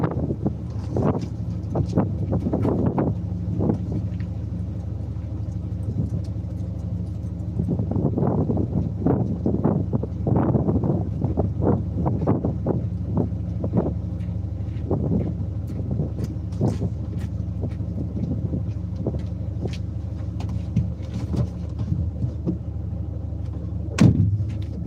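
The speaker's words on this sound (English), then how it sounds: "the wind is getting up. It's getting rougher." Strong wind buffets the microphone in steady, rough gusts that roar continuously throughout, with occasional faint knocks and rattles nearby; no one speaks.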